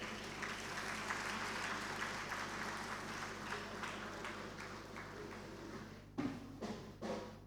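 Dinner party audience at an insurance brokers conference applauding the First Lady, moderate clapping over a low steady hum, fading toward the end with a few louder thumps and voices breaking in.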